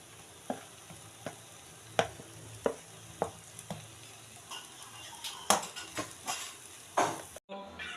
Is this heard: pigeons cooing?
no